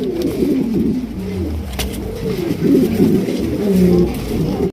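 Pigeons coo steadily throughout, overlapping low rolling calls close by at a market stall selling a pair of red king pigeons, with no talk over them.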